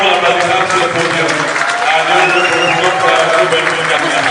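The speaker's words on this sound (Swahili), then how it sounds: "Tafadhali kwenye makofi mpaka afike kwenye jukwaa" Audience applause at a State of the Nation address by Chief Justice Maraga in Kenya, a loud, sustained patter of many hands clapping with crowd murmur, continuing steadily throughout.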